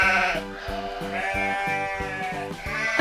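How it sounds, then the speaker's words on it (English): A sheep bleats repeatedly and close by, a series of wavering, pulsing cries that rise and fall in quick succession, loud and alone with no talk. "It's our little sheep."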